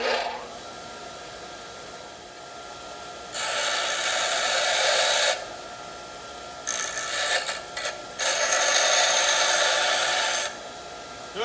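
A bench grinder spins up and grinds a workpiece rested on its tool rest, throwing sparks, in bursts of harsh hissing abrasion lasting a couple of seconds each, separated by the quieter hum of the motor idling.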